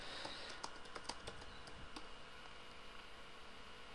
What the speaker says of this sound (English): Suppose I type here as,